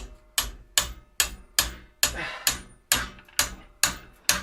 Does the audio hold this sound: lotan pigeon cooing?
no